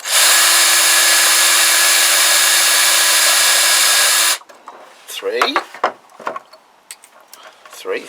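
A power drill bores out aluminium parts with a loud steady whine for about four seconds, then stops, leaving brief clanks and handling noises with someone talking.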